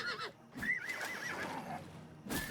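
A horse in the video game Oblivion Remaster gives a loud, close neigh, a quavering whinny lasting over a second, bracketed by brief hoof and movement noises.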